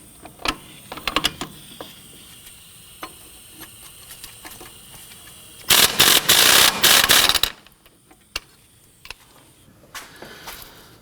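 A ratchet works loose the strut nuts on a 2015-2024 Nissan Murano, with one dense ratcheting burst of under two seconds amid scattered light clicks and taps of handling tools nearby.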